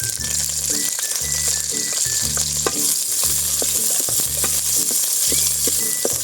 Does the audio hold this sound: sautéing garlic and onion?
yes